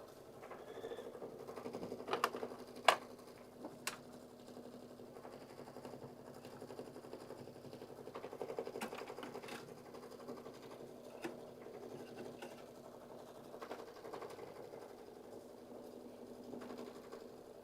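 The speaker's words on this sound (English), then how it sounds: "So now I know where it's going to start sewing" A computerized embroidery sewing machine stitches a design onto a sweatshirt: a quiet, steady mechanical whir with rapid needle clatter, broken by a few sharper clicks and ratchet-like ticks from the mechanism, fairly close and with no voices.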